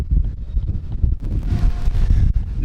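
Strong wind outdoors near Montreal's Olympic Stadium buffets the microphone in loud, uneven low rumbling gusts, with no talk.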